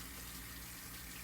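Water running down a sink drain after hand washing, a steady broadband rush with no pauses, close and even throughout, with no voices.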